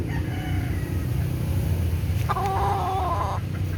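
A rooster or chicken close by gives a brief, clear call near the end, cutting through a steady low outdoor hum with no talk.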